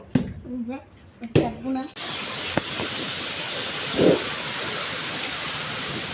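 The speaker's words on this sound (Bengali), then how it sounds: "বাইরে প্রচুর বৃষ্টি হচ্ছে, প্রচুর। মানে ঝড় বলে যে ঝড় ছাড়ছে।" Heavy rain pours outside during a storm as a dense, even roar that holds steady. A voice speaks briefly indoors at the start, then the downpour goes on alone.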